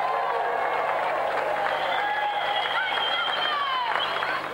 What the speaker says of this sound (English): let's have another round of applause for our gallant competitor, Jamie Spencer!